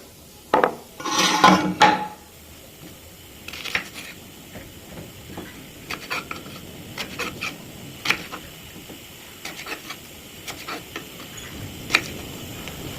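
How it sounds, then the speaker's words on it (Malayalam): Garlic is cut with a knife on a board: a brief burst of rustling and clatter, then scattered light, irregular taps and clicks, close and fairly quiet. "നഖം വെട്ടാത്തത് കൊണ്ട് വെളുത്തുള്ളി അരിയാൻ ബുദ്ധിമുട്ടുണ്ടായില്ല."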